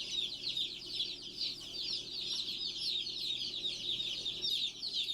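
Two-day-old hatchery chicks peep in a shrill, continuous chorus, many overlapping high chirps close by with no voices over them.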